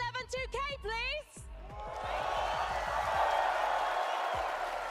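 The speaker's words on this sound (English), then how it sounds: "Can you give me a cheer for my friend Levin2k, please?" A large crowd at the Royal Arena in Copenhagen, during a Fortnite championship event, swells into sustained cheering and applause after a host speaks over the arena sound system.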